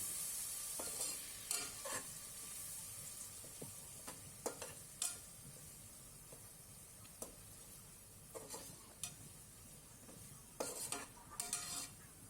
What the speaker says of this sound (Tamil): தயிரையும் சேர்த்து நல்லா கிளறி விட்டுக்கலாம்